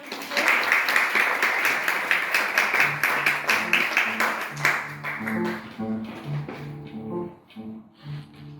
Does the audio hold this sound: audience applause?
yes